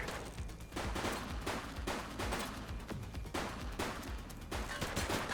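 A police shootout in a video game produces dense, rapid gunfire that continues for several seconds, with overlapping bursts at a steady, moderately distant level.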